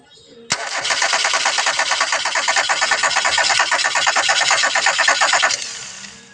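A 2003 Kia Avella with a no-start fault cranks for about five seconds, the starter giving a fast, rhythmic chugging. The cranking cuts off abruptly without the engine settling into an idle.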